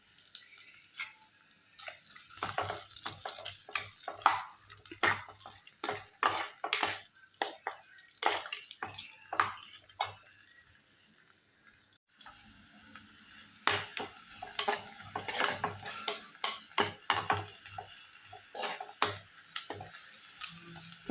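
Chopped onion sizzles in a pan for an egg masala curry, with a steady frying hiss broken by repeated scraping stirs and clinks of a spatula against the pan, close and without talk.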